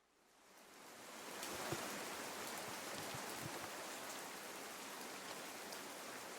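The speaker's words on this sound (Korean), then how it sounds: "하필 하늘도 제 마음을 아는지 그날따라 비가 내리기 시작했습니다." Steady rain falls, fading in quickly and then holding as a dense, even wash of patter with occasional distinct drops, fairly soft and with no voices.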